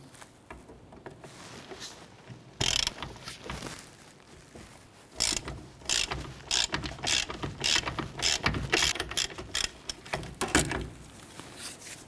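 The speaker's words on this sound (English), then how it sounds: "Now we're going to use a 14mm socket to loosen and remove this nut here." Ratchet with a 14mm socket loosening a brake-line bracket nut underneath a 1993–1997 Ford Ranger, rapid clicking bursts in several spurts, close and clear, no talking.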